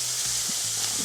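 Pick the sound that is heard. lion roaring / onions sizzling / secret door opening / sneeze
onions sizzling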